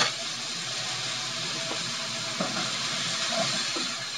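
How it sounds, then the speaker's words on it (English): A heaping teaspoon of garlic sizzles in a hot pan, giving a steady, even hiss that runs unbroken throughout with a few faint clicks and no talking. "Let it sizzle right on the pan."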